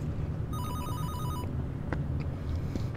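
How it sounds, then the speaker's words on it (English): Telephone ringing in the video game Baisu: a single electronic ring burst of rapid repeated tones, clear over a low humming game ambience, followed by quiet background sound. "Oh, the phone's ringing."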